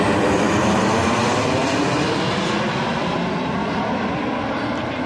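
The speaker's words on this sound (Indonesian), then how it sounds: "semakin dekat itu semakin gede aja pesawatnya" Airplane passing overhead near Soekarno-Hatta Airport, a loud, steady, broadband roar that fills the whole stretch without pause and fades only slightly toward the end, with no voices.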